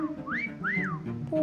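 Two rising-and-falling whistles sound in a hide and seek video game, each about a third of a second, clear and fairly close over a steady background hum.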